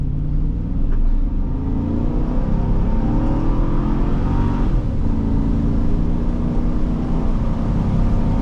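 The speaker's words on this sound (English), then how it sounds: "Let's ease into the throttle, see what happens." A 2005 Chevrolet Suburban 1500 accelerates under throttle on a wet day, its engine a loud, steady, close rumble that rises in pitch as the speed builds, heard from inside the cabin without talk.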